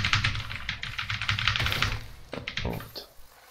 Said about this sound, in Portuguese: fazendo todo o barulho possível do teclado